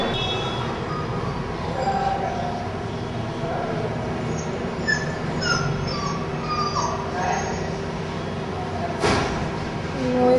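A mother dog who has lost her puppy whimpers in thin, high, intermittent cries over a steady low background hum, with a sharp brief knock near the end.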